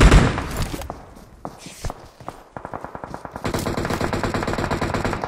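PUBG Mobile gunfire from DP28 and M416 guns in a competitive match, with a loud opening blast, scattered single shots, then rapid sustained automatic bursts growing denser toward the end.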